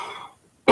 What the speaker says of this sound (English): He's just having a small coughing fit there.